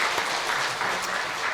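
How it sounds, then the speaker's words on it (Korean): A church congregation applauds steadily throughout, a soft, even wash of many hands clapping at a distance with no single claps standing out. "우리 박수하겠습니다."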